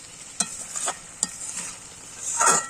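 A spoon stirs chicken curry in a pan after water has been added, scraping and clinking in short strokes over a soft, steady sizzle, close and fairly quiet.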